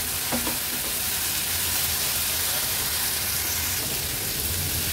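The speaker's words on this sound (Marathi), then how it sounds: "व्यवस्थित परतून घेते" Mixed wet vegetables being sautéed without water in a pan for a Maharashtrian Agri-Koli style veg thali give a steady, loud sizzle and frying hiss with occasional spatula scrapes and stirs.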